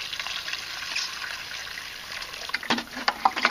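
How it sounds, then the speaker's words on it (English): Water trickling and spraying out of small holes drilled in a DIY greenhouse irrigation pipe, a steady hissing flow with a few splashes near the end, fairly close. "Yeah, the water just comes right out."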